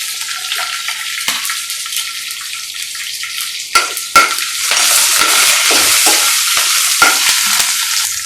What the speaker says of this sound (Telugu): ఇప్పుడు ఇందులోనే పచ్చిమిర్చి వేసుకోవాలి